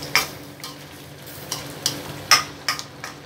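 A utensil scrapes and clinks in a pot of Ilocano dinengdeng vegetable stew, several sharp taps at irregular intervals over a faint background.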